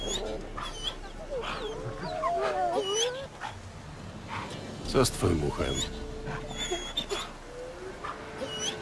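Dogs fight in the video game The Witcher 3, snarling, yelping and whimpering in short bursts, with voices speaking over the scuffle.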